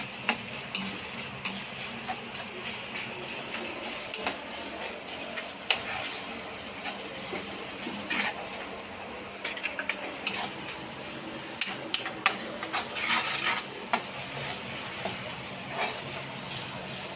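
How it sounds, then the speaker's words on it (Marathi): A pav bhaji mixture with salt is stirred in a pan on the stove, a spoon scraping and clinking against metal in irregular taps over a soft steady sizzle, with no talking. "मीठ टाकून हे छान मिक्स करायचं"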